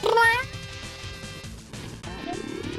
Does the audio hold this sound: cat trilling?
yes